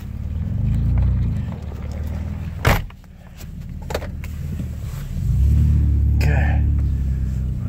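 A 2003 Ford Escape engine revs in four-wheel drive as the wheels spin, a steady low rumble that swells, dips around a sharp knock, then climbs again and holds loud near the end.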